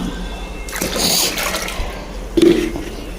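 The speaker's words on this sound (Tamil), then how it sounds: "ஒரு ஒன் லிட்டர் அளவுக்கு நம்ம தண்ணி சேர்த்துக்கலாம்" About one litre of water pours in a brief rushing splash for a homemade garden leaf-curl remedy, then trickles off, followed by a small clink near the end.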